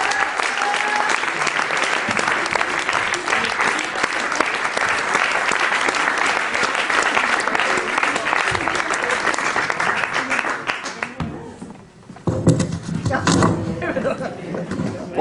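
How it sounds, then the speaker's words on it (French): Sustained audience applause for the performer Piéton at a live comedy show, a loud dense roar of clapping with scattered laughter and chatter, briefly dipping near the end before picking up again. "Continuez à applaudir pour Piéton,"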